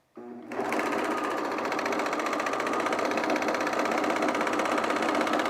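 A serger runs steadily through a single layer of linen while sewing trousers, a fast continuous mechanical whir that starts abruptly and holds at an even, close, fairly loud level with no talking.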